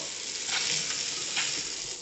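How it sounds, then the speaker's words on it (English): An instant boiling-water kitchen tap made by Fohen runs with a steady, hissing gush, swelling in two bursts over about two seconds. "So you open it up and there's the instant boiling water"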